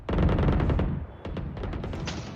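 Rapid automatic gunfire in Valorant, a dense burst of close shots, a brief pause, then a second ragged burst of fire.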